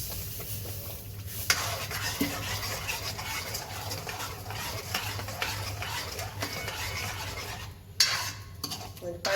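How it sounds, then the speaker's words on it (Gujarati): Sugar is stirred into thick homemade tomato ketchup in a pot. A spoon scrapes continuously, with a soft simmering sizzle and occasional sharper clinks against the vessel. No voices are heard. "હવે આપણે ખાંડ નાખી દઈશું"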